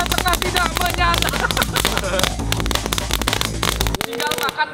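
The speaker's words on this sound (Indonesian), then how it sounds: "Videonya kita baru mulai aja udah dapat kembang api yang bagus" Large homemade jumbo fireworks burst in a rapid crackling barrage, dense sharp pops and bangs packed close together, loud and near, with a brief lull near the end.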